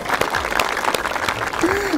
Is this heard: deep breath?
no